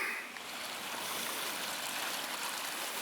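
Steady broadband rush of water flowing down the Bródnowski drainage canal in Warsaw, a continuous close stream with no talk over it.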